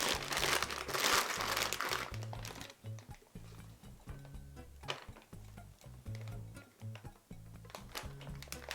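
A plastic piping bag crinkles and rustles as it is filled with icing for mincemeat iced tarts. The bursts are close and irregular, loudest at the start and then lighter and intermittent, with no talking.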